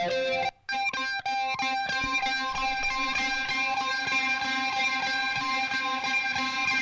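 Ambient electric guitar played through effects into a Marshall Jubilee amp, with slightly detuned bent notes; a dense, sustained distorted wash rings out loud and continuous after a brief dropout near the start.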